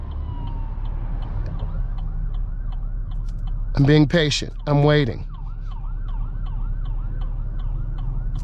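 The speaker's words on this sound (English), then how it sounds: "listen to the siren" Emergency vehicle siren wailing in rising and falling sweeps through traffic, moderately distant and steady, heard from inside a car with low road rumble, while a person speaks briefly in the middle.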